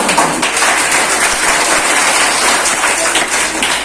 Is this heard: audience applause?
yes